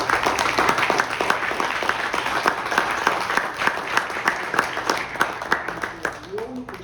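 Sustained audience applause at a Columbus Day gathering of the Lt. Detective Joseph Petrosino Association in New York City, dense steady clapping from a crowd throughout, fading slightly at the end.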